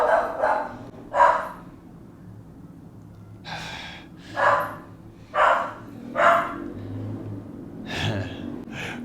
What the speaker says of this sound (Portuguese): cachorrada latindo aí